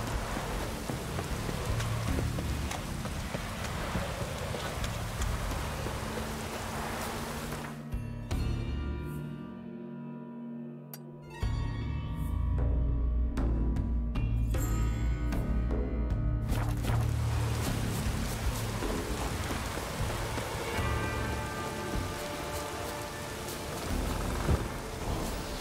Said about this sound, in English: Interesting weather, by the way. There is snow, it's raining,